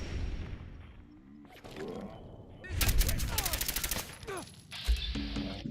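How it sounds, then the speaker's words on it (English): Rapid gunshots from the Silver Shroud's gun in Fallout 4, a quick run of sharp shots in the middle, then a brief later burst over a quiet, muffled game background with a faint voice. "the Silver Shroud begins to pepper the triggerman with his bullets of justice"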